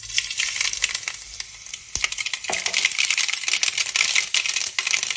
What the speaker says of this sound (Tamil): எண்ணெய் நல்லா இதில் கடாயில் காஞ்சதுக்கப்புறம் கடுகு கொஞ்சம்,